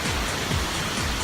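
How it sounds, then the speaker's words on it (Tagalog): Pulang Bato Falls waterfall among reddish rocks, a steady broadband rush of falling water, close and continuous through the brief moment. "I'm here now at the famous Pulang Bato Falls"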